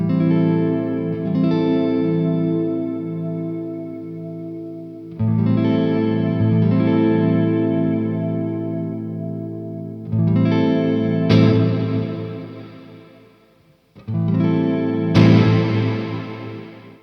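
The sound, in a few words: electric guitar through a reverb pedal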